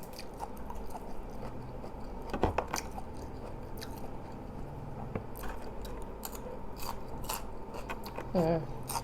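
Someone eating Indonesian salak snake fruit, with close crunchy bites and soft wet chewing at irregular moments against a low background of faint voices and room noise.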